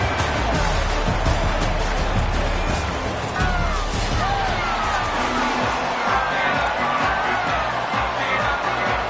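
Stadium crowd noise from EA Sports College Football, a dense, steady roar of cheering with shouts and whoops throughout, loud and continuous, with a commentator-like voice mixed faintly underneath.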